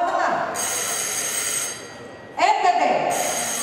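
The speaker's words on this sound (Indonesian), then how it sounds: "sebelum kita masuk tahap rebutan, kita coba terlebih dahulu bel." Quiz buzzer bells rung one after another as teams test them before the rapid-answer round of a national final law-awareness competition, bright ringing bursts repeating up close, with a hall murmur and voices around them.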